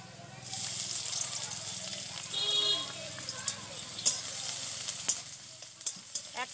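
Chopped onion sizzling in about three spoons of hot white oil in a well-heated kadai, a steady, close crackle with occasional sharp pops and stirring clinks, and faint voices in the background.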